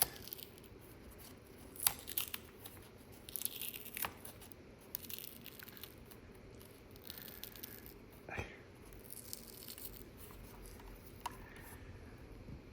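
Factory fabric tape being peeled off the convertible top of a Ferrari F430 Spider, heard as quiet, intermittent tearing and crinkling rips in a few short bursts, close up, with faint talk in places.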